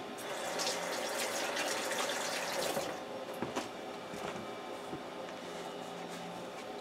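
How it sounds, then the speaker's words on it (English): Hands being rinsed under a running kitchen tap to wash off rice, a steady close water stream for about three seconds that then thins to softer splashes and drips. "Let me give my hands a quick rinse to get this rice off."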